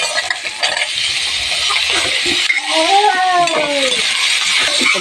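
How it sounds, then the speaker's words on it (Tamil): Mustard seeds crackling and popping in hot oil in a pan, a loud, steady sizzle with bright pops, while a brief tonal, wavering sound rises partway through. "இப்போ கடுகு பொறிஞ்சிட்ருக்கு"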